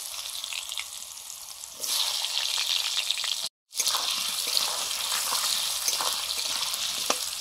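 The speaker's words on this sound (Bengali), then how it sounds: "আলুগুলো ভেজে নিচ্ছি" Potatoes sizzle in hot oil in a pan while cooking a vegetable dish, a steady crackling fry that grows louder partway through, with a brief dropout in the middle.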